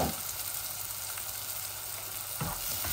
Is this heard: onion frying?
yes